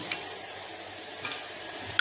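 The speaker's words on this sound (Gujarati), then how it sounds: "ચાલો બધું મિક્સ કરી લઈએ" A spoon stirring spices, salt and sugar into a mixture in a pressure cooker, a steady soft sizzling hiss with a couple of faint clinks of utensil against the pot.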